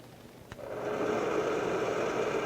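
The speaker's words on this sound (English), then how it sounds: "I'll start our motor" Electric motor in a 1950s laboratory workshop starting up after a click, its whirring hum swelling and then holding steady, faint and alone.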